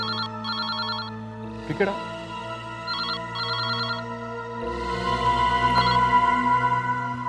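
A telephone rings in repeated double bursts during a Hindi crime drama, with a voice speaking briefly between the rings over a steady background hum.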